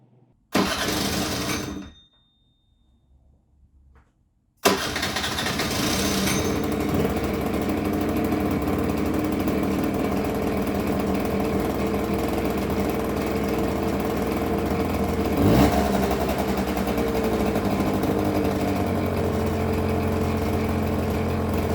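A Hyosung Sense scooter in bad shape, with a repaired airbox, cranks and briefly catches, falls quiet, then fires up and keeps running with a steady loud idle and a small rev bump near the end, close by with no voices.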